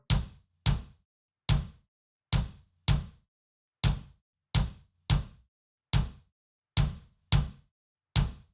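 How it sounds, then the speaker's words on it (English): Punchy kick drum hits shaped by a fast-attack compressor, about a dozen tight thumps in a steady repeating pattern, each with a sharp transient and quick decay, loud and alone with no voices. "let's try shaping the sound of our kick by using a compressor"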